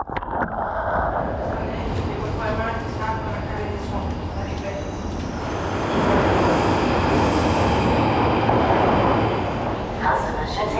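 A London Underground train rumbles loud and close, a broad steady roar that swells in the second half with faint metallic squeal, amid crowd noise.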